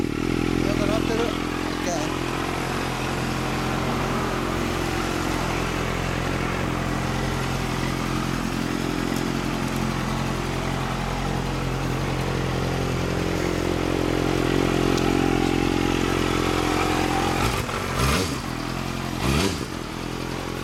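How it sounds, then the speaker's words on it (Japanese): A 1989 Yamaha FZR250R motorcycle engine runs steadily at close range for the whole stretch, a continuous mechanical drone with some clatter, and a couple of brief revs rise near the end. "ヤマハの FZR250R ね。"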